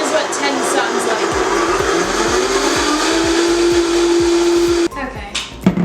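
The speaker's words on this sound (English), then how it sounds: "that blender is pretty incredible that it can be that powerful" A powerful blender running at full power mixing chocolate mousse ingredients, a loud, steady roaring whir with a rising motor pitch, cutting off abruptly near the end.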